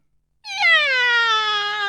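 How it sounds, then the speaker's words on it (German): A kitten on a windowsill lets out one loud, drawn-out meow that slides slowly downward in pitch and holds for over a second, heard alone and close. "Das Kätzchen kommt auf den Fenstersims und briegt so laut es kann."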